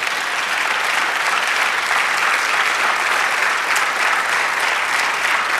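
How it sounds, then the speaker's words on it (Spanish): A church congregation applauds during a sermon, loud dense clapping from many people that fills the space and holds steady for several seconds with no break. "Denle un aplauso a Jesús."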